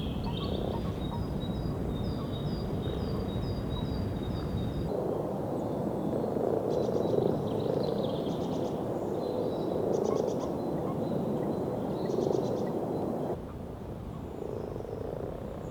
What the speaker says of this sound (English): I captured this common toad give a release call when a male frog grabbed it by mistake.